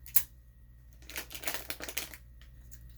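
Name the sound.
tape being pulled and stuck onto a gift basket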